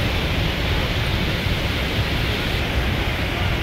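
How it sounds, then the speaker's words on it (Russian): Niagara Falls thunders in a steady, dense roar of falling water, broadband and unbroken throughout, with no voices over it. "Ниагарский водопад."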